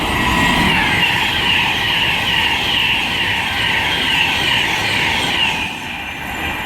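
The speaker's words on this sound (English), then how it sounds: "approaching now, we have an unscheduled Virgin Pendolino" A Virgin Pendolino electric passenger train on the West Coast Main Line approaches and passes close by, a loud sustained rush and whine that stays steady throughout before easing slightly at the end, with no talking.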